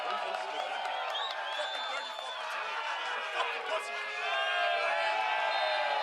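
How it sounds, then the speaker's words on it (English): Stadium crowd at a pro soccer match between OKC Energy FC and El Paso Locomotive FC giving a Bronx cheer to a player being substituted off, a broad mix of jeering whistles and murmured calls that swells slightly toward the end, with commentary over it. "He gets a bit of a Bronx cheer on the way out."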